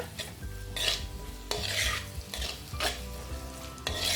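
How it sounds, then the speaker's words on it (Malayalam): Crushed shallots are stirred in a hot pan while cooking for a chicken roast, with a spatula scraping and clanking in repeated strokes over a continuous sizzle, up close with no talking. "ഇനി നമുക്കിതിലേക്ക് ചെറിയ ഉള്ളി ഇട്ട് കൊടുക്കാം."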